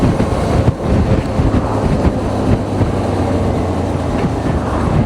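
Steady wind buffets the microphone with a low, rumbling roar that continues without a break from start to finish.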